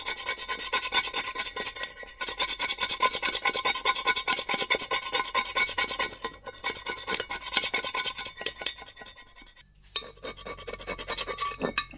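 A knife blade rasps and scrapes continuously across a glued sticker label, loosening adhesive softened by heat, with a steady close scratching that pauses briefly near the end and then resumes.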